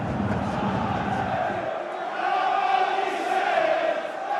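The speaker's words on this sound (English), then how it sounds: "The home crowd get behind their side" A home crowd at a Scottish Cup fifth-round football match roars and chants in a big stadium, the sound rising and holding loud, with talk running underneath.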